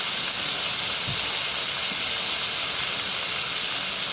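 Loud continuous steam hiss as a splash of cold water hits a hot pan while cooking nacho cheese double dogs, steady throughout with no talk.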